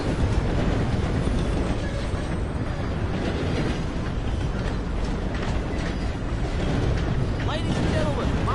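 A steam train in the Red Dead Redemption 2 video game rumbles and clatters steadily, close and fairly loud, with a hiss of steam near the end and a voice speaking over it.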